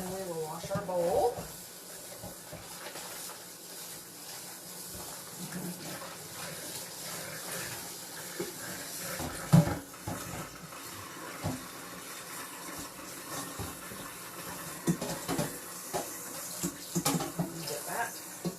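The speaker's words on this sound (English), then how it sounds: "And we will wash our bowl." Tap water runs steadily into a sink while a mixing bowl is washed by hand, with occasional clunks and splashes and a person talking over it at times.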